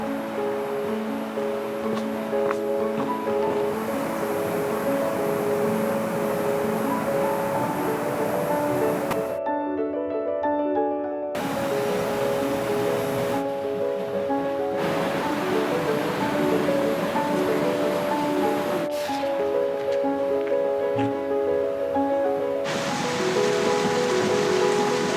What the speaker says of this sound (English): A wooden bridge carries you over a soothing brook